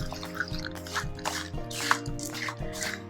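Oats being stirred into a basic oil-free chocolate raspberry granola mixture in a bowl, a close, wet, sticky churning with soft repeated squelches at a steady stirring rhythm.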